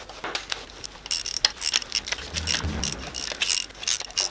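A ratchet clicks in quick, uneven bursts as camshaft bolts are loosened on a Cupra engine, with faint metallic knocks and rustles between the strokes, close and fairly quiet.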